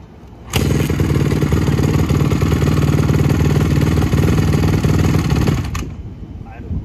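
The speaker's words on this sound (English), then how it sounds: "Idle good, but just when you touch the gas." A 2007 Honda CRF150R dirt bike with a new OEM carburetor and a bogging problem fires up loudly close by, running steadily with a rough, pulsing engine note for about five seconds before cutting off abruptly.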